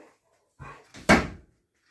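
An assistance dog pushes a washing machine or tumble dryer door shut, giving a short shuffle and then one close thud, near and fairly loud in a quiet room.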